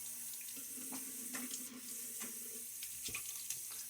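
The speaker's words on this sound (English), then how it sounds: "a little water splash now, because that was a quick pass" A bathroom tap runs steadily into a sink during a wet shave, with soft splashes and water sounds continuing at moderate level.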